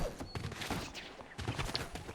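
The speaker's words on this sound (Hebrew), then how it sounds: "יריות!" Gunfire in the video game Fortnite, a quiet rapid burst of shots repeating in short clusters with brief pauses between them.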